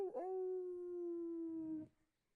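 A human voice imitating a wolf or coyote howl, one long sustained tonal wail held steady for nearly two seconds before cutting off, heard clearly in a quiet room.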